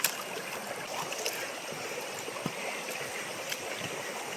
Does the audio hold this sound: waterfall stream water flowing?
yes